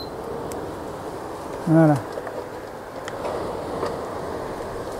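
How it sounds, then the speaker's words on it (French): An electric fan running at full speed gives off a steady, loud broadband whoosh that fills the room. A brief spoken word cuts in partway through. "je vais allumer la source de bruit, hein, le ventilateur."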